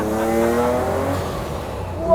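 A TWR Supercat, a 650bhp V12-engined Jaguar XJS race car, slides around on very little throttle, its engine holding a steady, fairly loud drone that sags slightly before a brief rise at the end.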